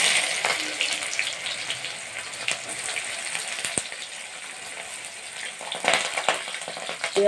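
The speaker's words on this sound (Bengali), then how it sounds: "পেঁয়াজটা ভেজে নেব।" Onion frying in oil with dried chili, bay leaf and cumin, a moderate crackling sizzle with intermittent stirring clatter, close and steady.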